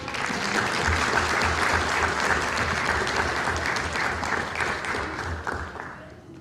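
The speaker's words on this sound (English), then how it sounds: "Let's give Dominic another round of applause." Audience at a Norwalk city council meeting applauding, a dense, continuous burst of clapping from a roomful of people that holds steady for several seconds before tapering off.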